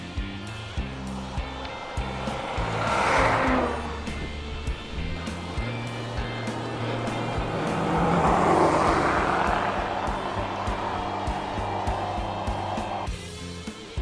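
Road traffic passes a cyclist on a rural road east of Spring, growing busier with drivers heading home: two distinct vehicle swells rise and fade around the rider, with engine hum and tyre roar beneath steady wind rush.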